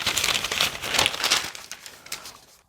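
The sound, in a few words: paper pattern pieces being handled after cutting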